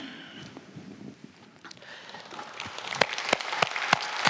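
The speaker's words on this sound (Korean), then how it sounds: "큰 박수로 영광 돌립니다." Applause from a church congregation at a Korean Sunday worship service, starting as faint scattered sound and building into louder, sharp, evenly spaced claps near the end.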